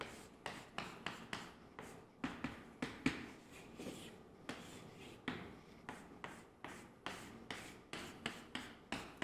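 A pen strokes rapidly back and forth across a paper math worksheet to shade set regions, making repeated rhythmic scratchy bursts close up and quiet, with no talk.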